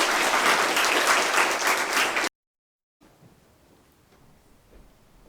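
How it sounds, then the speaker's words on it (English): A crowd at a Grade 5 school prize-giving ceremony claps loudly for about two seconds, then cuts off abruptly into near silence with faint room noise. "Please give the learners a round of applause"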